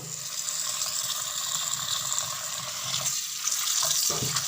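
Bathua greens washed under a running tap in a kitchen sink: a steady hiss of flowing water with soft splashing and a few clinks of handling, close and continuous, without talk.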